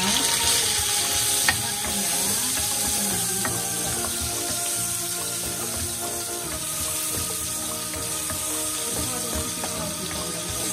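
Garlic and onion frying in a pan that was just used for pork steak and still holds its sauce, making a continuous sizzle with scattered light clinks and crackles.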